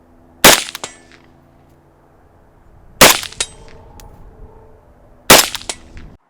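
Three loud rifle shots from a Zastava ZPAPM70 fired at a target roughly 100 yards away, spaced a few seconds apart, each a sharp crack with a short ringing tail against a quiet background.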